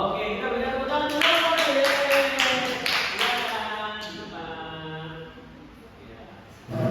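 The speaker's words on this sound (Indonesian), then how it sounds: "Oke, kita berikan tepuk tangan dulu." A classroom of students claps for the first group after their presentation, a burst of brisk, fairly rhythmic hand claps close by that fades into quiet talk.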